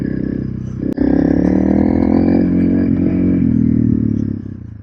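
A Honda CRF 300L motorcycle riding slowly off-road on muddy ground, its engine droning steadily and loud at close range after a brief knock, with clattering from the terrain and no talking.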